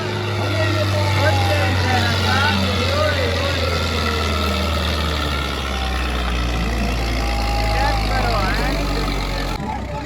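A tractor engine drones loud and close throughout a stunt at a rural tractor fair, a steady low rumble with a shifting pitch as a crowd talks and shouts over it.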